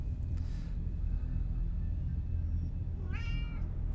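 A cat gives two short meows, one near the start and a clearer, rising one near the end, heard close over a constant low background rumble.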